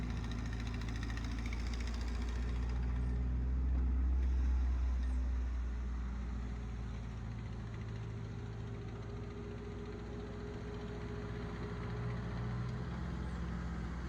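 A Ford 8N tractor engine runs steadily at a low, throbbing idle-like pace while plowing root- and rock-filled garden ground, a constant near drone with a slight swell early on and no talk.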